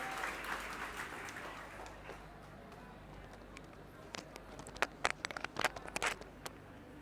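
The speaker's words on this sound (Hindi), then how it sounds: "तालियां बजती रहनी चाहिए" Applause from an audience at a NEET-2025 results celebration for a coaching class, fading from a steady clapping wash into scattered, sharper individual claps near the end.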